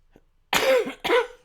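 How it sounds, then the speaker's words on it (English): Two hoarse coughs in quick succession, close and fairly loud, after a brief faint sound. "Sorry, this cough is persisting"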